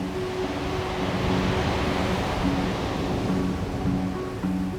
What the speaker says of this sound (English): High winds and huge waves.